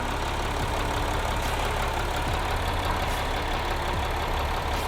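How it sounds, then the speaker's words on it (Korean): A Mercedes-Benz GLE 350 d 4MATIC Coupe's diesel engine idles steadily, a constant low rumble with an even rhythmic knock, no voices. "엔진 소리 일정하네요"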